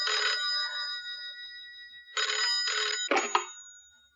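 A telephone rings in clear, bright bursts: one ring, a pause, then a second ring, loud and close in a quiet room with no speech.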